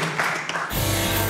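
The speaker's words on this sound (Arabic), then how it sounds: "تصفيق على كريم الغربي" An audience bursts into steady applause for Karim Gharbi on the Tunisian TV show Omour Jedia, the clapping starting abruptly after a quiet moment and continuing as a dense, even wash.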